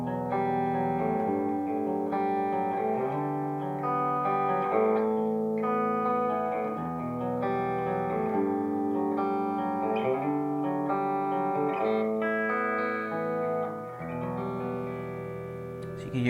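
Electric guitar played through a Blackstar HT-5RH amp head with the tone control turned fully up, giving bright, crisp, effects-laden chords and notes that ring continuously with no talking.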